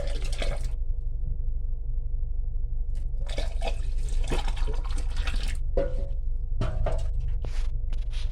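Hot water trickles and splashes in bursts over a low steady hum, close by, as it is poured into a clogged sink drain.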